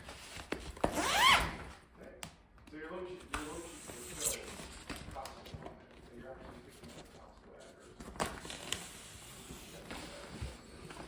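Plastic zipper of a dust wall rasped along in short bursts, close by, with handling rustles and a few quiet gaps.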